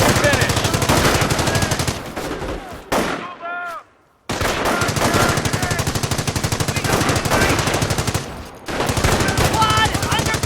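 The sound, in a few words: machine gun fire in Company of Heroes video game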